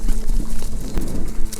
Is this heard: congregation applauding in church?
no